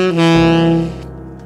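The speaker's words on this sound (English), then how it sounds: "And we're going to get a really nice altissimo lick." A saxophone plays a short altissimo lick using side C shuffle fingering, a loud reedy sustained tone that shifts pitch quickly and then fades, heard alone.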